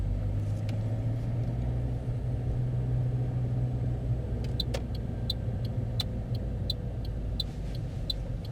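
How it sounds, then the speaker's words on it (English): A car engine revving hard under heavy accelerator during a hill start on a driving test, a steady, near drone that swells then eases, with faint repeated ticking clicks in the later part. "While doing this hill start, Stephanie uses a lot of accelerator"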